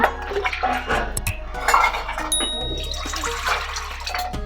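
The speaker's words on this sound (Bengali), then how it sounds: "কড়াটা একটু গরম করে কড়াতে আমি জল দিয়ে দেব" Water poured into a heated wok while making cauliflower chilli gives a close splashing rush with clinks of metal cookware and a faint ding, and no one talks.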